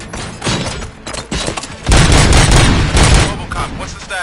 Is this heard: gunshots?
yes